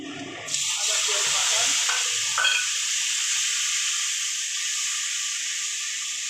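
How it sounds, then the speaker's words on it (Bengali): Whole spices, sugar and dried red chilies drop into hot oil for paneer kalia, setting off a sudden loud sizzle that settles into a steady, close hissing fry, with a few faint utensil clinks. "আমি সব গোটা মশলাগুলো দিয়ে দিলাম চিনি দিয়ে দিলাম দিয়ে দিলাম শুকনো লঙ্কা দিয়ে দিলাম"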